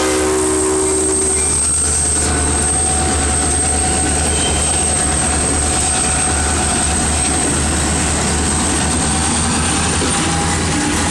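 A Canadian National freight train, locomotive 5417, rumbles steadily past a crossing in Effingham, Illinois, with a loud sustained horn blast near the start and constant wheel and car noise throughout.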